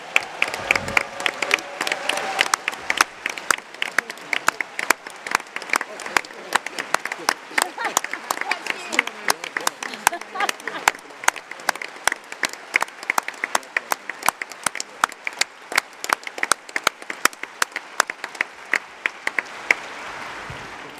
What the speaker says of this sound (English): can we have a massive round of applause for party staff?